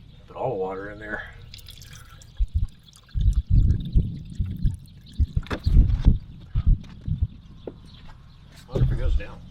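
Water is poured in, heard as a run of splashy, glugging bursts that come and go in the middle of the clip, with a voice talking briefly before the pouring starts.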